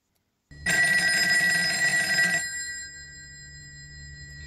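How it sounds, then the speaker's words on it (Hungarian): An old telephone bell rings in an abandoned, messy flat, a bright sustained metallic jangle that starts abruptly, lasts about two seconds, then stops and leaves a faint low hum. "Most újra meghallottam, hogyan cseng a telefon az elhagyott rendetlen lakásban."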